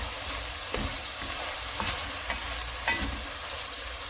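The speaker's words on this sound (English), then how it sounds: "we fry it up." Ingredients for a homemade prawn curry fry in a pan with a steady, close sizzle. Occasional stirring scrapes rise briefly above the frying.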